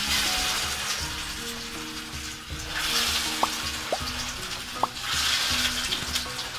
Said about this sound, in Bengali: তো আমরা এখন আগে থেকেই তেল গরম করে রেখেছি এবং এর মধ্যে আমরা ধীরে ধীরে করে সবগুলো কাবাব ছেড়ে দেব।